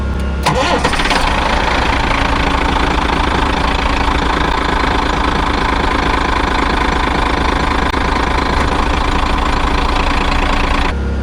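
Argo amphibious vehicle engine cranking and catching, then running at a loud, steady, slightly rough idle close by for several seconds, with no talking.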